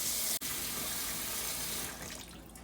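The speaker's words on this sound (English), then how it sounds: "Then we're going to run some cool water over them, right over the top, just like before." Cool tap water runs steadily into a kitchen sink over freshly blanched green beans, a continuous close rushing splash heard alone with no talk.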